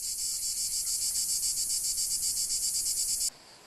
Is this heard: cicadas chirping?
yes